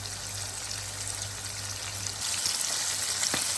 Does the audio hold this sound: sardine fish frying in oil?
yes